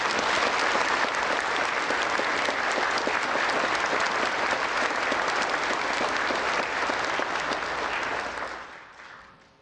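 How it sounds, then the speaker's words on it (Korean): Loud, sustained applause from a large audience at a national prayer breakfast, steady for about nine seconds before tapering off at the end. "우리 다시 한번 뜨거운 박수를 드리겠습니다."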